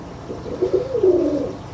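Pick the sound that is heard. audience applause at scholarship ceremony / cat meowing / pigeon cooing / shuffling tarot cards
pigeon cooing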